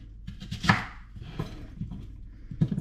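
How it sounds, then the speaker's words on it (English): A sharp knife chops food on a board while a bolognaise is being prepared: irregular, moderately loud thuds and crisp cuts, a few strong strikes spread unevenly across the moment, with no talking. "And chop it all up."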